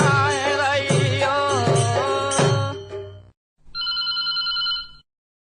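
A telephone rings for a radio phone-in call. The loud, close ring plays in repeated warbling bursts for about three seconds, then a shorter, thinner ring follows after a brief gap.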